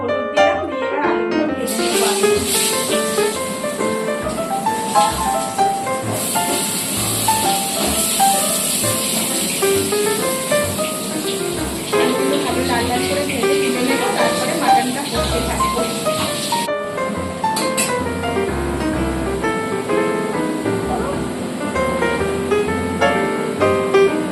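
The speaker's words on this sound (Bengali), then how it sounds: "অল্প একটু সাদা তেল আর আলুগুলো আগে ভেজে নেব তেলটা গরম হয়ে গেছে একটু" Potatoes sizzling in a little hot white oil in a kadai, a continuous loud hiss with crackling throughout, close up and without talk.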